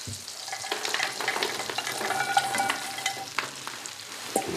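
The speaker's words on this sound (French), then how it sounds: "je mets mes croûtons à revenir dans le beurre" Croutons fry in butter in a pan with a soft, continuous sizzle, broken by scattered crackles and pops and the clatter of stirring, at close range with no talk.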